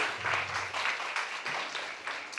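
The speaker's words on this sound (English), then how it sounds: "Give applause for all of the speakers." An audience at a business sustainability event applauds the speakers being called on stage, a short, moderately quiet burst of clapping with a few louder claps standing out.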